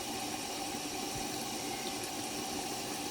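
Tap water runs steadily into a sink during a homemade facial scrub routine, a continuous close hiss that holds even and unbroken throughout, with no talking.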